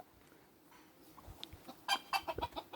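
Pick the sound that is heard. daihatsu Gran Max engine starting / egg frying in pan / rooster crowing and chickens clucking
rooster crowing and chickens clucking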